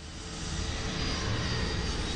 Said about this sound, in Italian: Poi l'aereo precipita